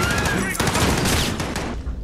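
A dense burst of rapid gunfire crackles continuously and loudly in the video game Modern Warfare, shots overlapping with a shouted voice mixed in.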